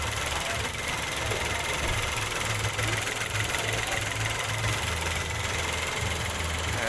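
A Nissan Almera's 1.0-litre turbocharged three-cylinder engine idles in a steady, low, even hum with a faint rhythmic pulse, heard close and continuous throughout.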